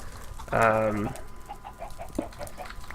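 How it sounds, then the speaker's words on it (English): A drawn-out chicken squawk, then a series of soft, quick clucks at moderate volume, from chickens in Minecraft. "We got some chickens in there."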